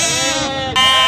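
A sheep at a livestock market in Füzuli lets out one loud, close, quavering bleat that swells near the end, with market chatter faintly behind it.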